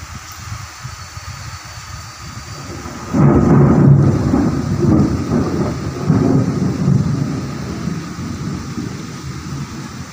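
Heavy rain pours outside a home window while thunder rumbles. A loud, deep roll of thunder breaks in partway through and continues over a steady, dense downpour. No one talks.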